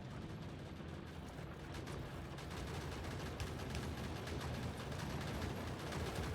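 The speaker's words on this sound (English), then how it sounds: "Hey, gunfire." Turret gunfire in the video game Factorio, a dense continuous rattle of rapid shots that holds steady throughout, faint and distant, with no talking.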